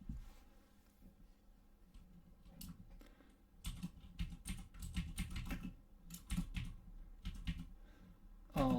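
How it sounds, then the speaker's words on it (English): Computer keyboard typing in quick bursts of close clicks and clacks, irregular in rhythm and separated by short pauses, with no talking. "keyboard ASMR sounds for the win"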